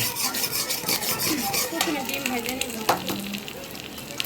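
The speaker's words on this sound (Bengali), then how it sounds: "গরম তেলের ভিতরে ডিম দিচ্ছি।" Eggs dropped into hot oil in a home kitchen while making fried rice, giving a steady broadband sizzle with scraping and rubbing touches and a sharper crackle near the end. A voice is faintly audible underneath.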